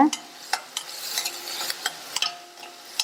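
Onions and chillies sautéing in a pan for a drumstick leaf recipe, a steady soft sizzle broken by repeated scraping stirs of a spoon against the pan, close and without talk.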